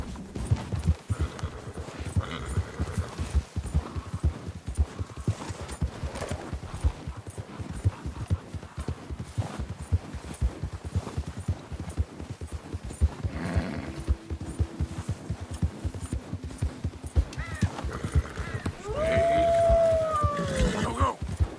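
A horse gallops in the video game Red Dead Redemption 2, a fast, continuous run of hoofbeats, with a short whinny near the end.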